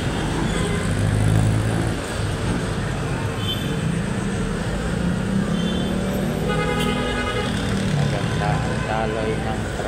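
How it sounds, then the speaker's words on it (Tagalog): Night traffic in Quiapo, Manila: a dense, continuous roar of cars, buses and trucks flowing past nearby, with engines and tyres blending into one loud wash and a voice talking faintly over it. "Magandang daloy ng mga sasakyan guys."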